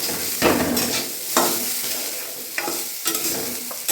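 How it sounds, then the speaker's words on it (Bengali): Potatoes frying in hot oil, heard close up as a loud continuous sizzle with several bursts of stirring and scraping, and no voices. "এই আমার এখন আলু ভাজা হচ্ছে"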